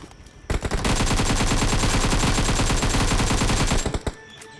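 A machine gun in a shooter video game fires one continuous rapid burst for about three seconds, loud and dense, then cuts off abruptly.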